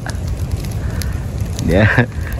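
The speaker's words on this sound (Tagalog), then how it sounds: "Grabing apoy niya." A bonfire burns with a steady broadband roar and crackle throughout, while people talk nearby and a voice rises briefly near the end.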